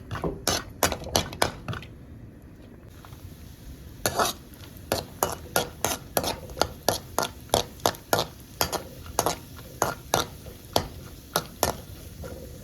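Semolina and cashews roasting in a pan for Coimbatore-style rava laddu, with a steady series of sharp scraping stirs, roughly two per second, close and fairly loud over a quiet background.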